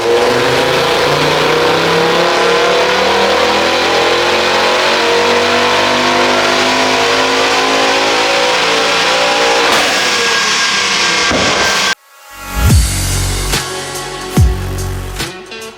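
A Focus RS Mk2 engine with Stage 2 tune on SP98 fuel revs hard and holds at high RPM on a dyno, then cuts off abruptly, followed by loud clattering and popping as it winds down.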